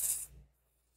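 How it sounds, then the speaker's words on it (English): A short hiss of DeoxIT contact cleaner sprayed into an Apple III+ keyboard, a bright close burst lasting about a quarter second and then fading under a low hum. "let's spray some deoxit in there"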